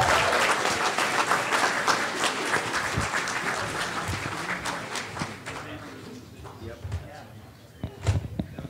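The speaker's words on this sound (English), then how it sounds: "let's give them one more big round of applause" Applause from the crowd at an adult costume contest during a horror festival starts as a thick, loud wash, then gradually fades over several seconds into scattered claps and stray noises, with voices mixed in underneath.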